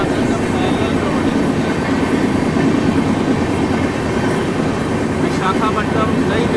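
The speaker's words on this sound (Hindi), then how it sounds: "सागर यहाँ पे आंध्र प्रदेश एक्सप्रेस को ओवरटेक करते हुए," Rapti Sagar Express running at speed alongside the AP Express on a parallel track, a steady loud rumble of wheels and carriages with rhythmic clatter throughout, heard from on board.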